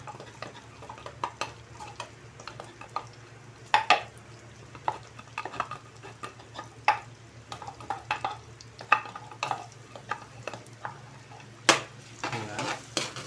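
Garlic sizzles in melted butter in a pan while a spoon stirs and scrapes it, giving a soft continuous fry under irregular clinks and knocks against the pan.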